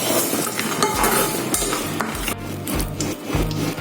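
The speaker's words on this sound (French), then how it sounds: "je suis donc en train de torréfier ou bien de faire griller tous nos épices" Dry scraping and rubbing in a pan, irregular strokes of a utensil stirring spices as they dry-roast, close and continuous with occasional light clinks.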